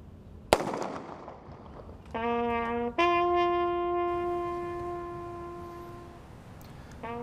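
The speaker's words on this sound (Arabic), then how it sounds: "ثم أطلقت أخرى لإعلان نهاية الصمت" A single sharp, loud ceremonial gunshot cracks out at a Martyr's Day commemoration held by the Royal Guard. Soon after, long sustained tonal notes ring on and slowly fade.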